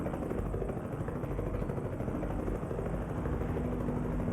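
Helicopters in the American Truck Simulator game give off a steady, dense rotor and engine drone that continues evenly at a moderate level throughout, with no talking.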